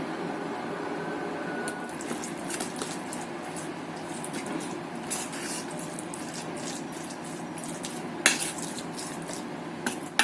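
A spoon clinks and scrapes in a bowl as dumpling filling of carrot, scallion and garlic is mixed, with irregular light taps and a few sharper knocks near the end, and no talking.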